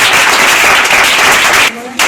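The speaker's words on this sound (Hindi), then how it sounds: "बच्चे ताली बजाओ।" Children clapping together at a local gathering, a steady, dense patter of many small hands that runs nearly continuously, then drops away briefly near the end before resuming.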